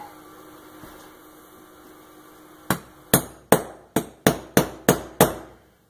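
Stitching holes being punched into a leather multi-tool sheath: after a quiet stretch, eight sharp, close hammer strikes on the punch land in a steady, evenly spaced rhythm, each with a short ringing decay.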